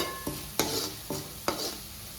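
Tomato and spices for Andhra-style palak pappu are stirred in a hot pan, with four distinct scraping strokes of a spoon over a soft background sizzle, close and clear.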